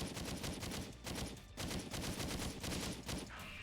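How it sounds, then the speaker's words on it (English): Rapid gunfire pours in from behind in the video game Rise: 30 Minutes to Extinction, dense bursts of shots repeating almost continuously with brief gaps, loud and close throughout. "I'm getting shot from behind too."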